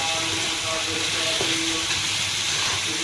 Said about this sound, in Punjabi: ਮਸਾਲੇ ਦੀ ਜਿਹੜੀ ਸਾਊਂਡ ਹੈ ਨਾ ਉਹ ਬੜੀ ਸੋਹਣੀ ਲੱਗਦੀ ਹੈ